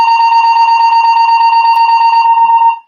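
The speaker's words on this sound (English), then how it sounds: "They're testing the fire alarm system." A fire alarm system under test blares a loud, continuous electronic tone with a rapid pulsing beat, sustained for nearly three seconds before cutting off abruptly.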